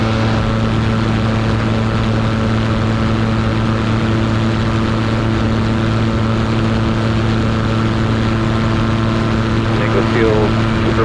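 Super Petrel amphibian aircraft engine departing Ingalls Field, the Hot Springs airport at roughly 3,800 feet elevation: a loud, steady propeller drone with strong harmonic hum, close and continuous, with a voice on the radio over it.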